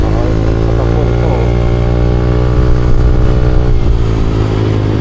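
A motorcycle engine revs loud and close, a steady deep rumble with rising and falling throttle over several seconds, alone without talk.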